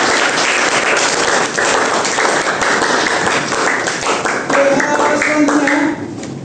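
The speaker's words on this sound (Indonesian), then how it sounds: "beri aplaus dulu untuk kelompok 1" Sustained applause from a classroom audience for a group that has just finished its presentation, a dense wash of many hands clapping steadily throughout, with a few voices mixed in.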